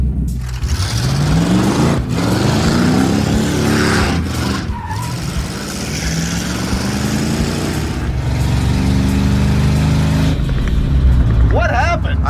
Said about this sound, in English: I've never heard an engine make that kind of racket.